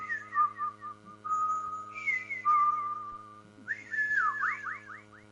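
Whistling for the silbón of Venezuelan legend, a ghostly figure said to appear at night before a house: melodic rising and falling whistled phrases, clear and close, with a quicker run of swooping notes near the end and no talk.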